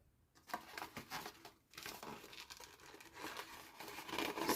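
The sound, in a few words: folding paper for a pillow box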